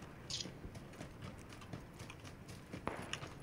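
Footsteps in the battle royale game PUBG (Battlegrounds) during a squad match, a run of soft rhythmic steps under steady game ambience, with a couple of sharper clicks mixed in.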